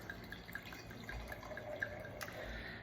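Red wine, a 100% Cabernet Sauvignon from Napa Valley, is poured into a glass, giving a soft, close trickle with light dripping splashes and no talking.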